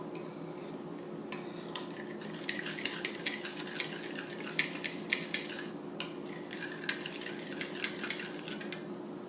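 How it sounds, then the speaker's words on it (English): A spoon stirs a lukewarm yeast mixture in a bowl, making light, quick clinks and scrapes against the container over a constant faint background hum. "Now stir it a little bit."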